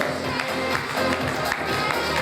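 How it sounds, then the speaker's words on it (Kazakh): Audience applause and crowd noise fill the hall at a celebration for teachers, a dense, steady clatter of clapping that runs throughout at moderate volume, with some murmured voices underneath. "Аналарға, қазіргі күндегі ұстаздарымызға бір қол шапалақ соғыңыздар"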